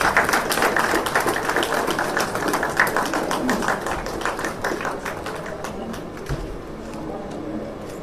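A hall audience at the INBCC inauguration claps during a felicitation, with a sustained patter of many hands that starts strong and slowly thins and fades toward the end.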